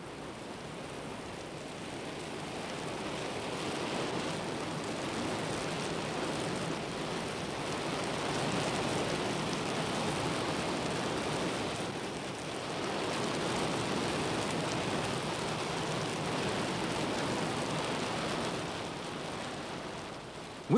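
Steady broadband hiss of rain falling on open savanna grassland, continuous and even for the whole stretch with slight swells in intensity, no voices or other sounds standing out.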